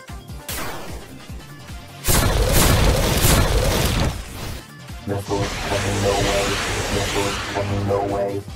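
Missiles fire in a video game in loud, broad bursts with hissing whooshes and booming impacts, a heavy blast in the middle followed by rumbling, tonal game effects.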